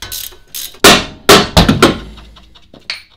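A Harbor Freight 1-pound rubber mallet strikes a car's front wheel knuckle during a Mazda2 wheel bearing job, several loud, sharp thuds in an uneven rhythm, each ringing briefly off the metal.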